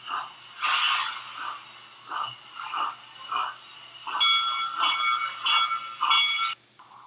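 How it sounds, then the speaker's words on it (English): A locomotive bell rings in regular repeated strokes, moderately loud with a metallic ring, continuing steadily for several seconds before stopping abruptly. "I did hear the locomotive bell ringing"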